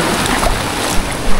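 Rough sea surf churns and roars in a broad, steady wash beside a seaside cemetery, loud and close, with wind buffeting the microphone and no voices.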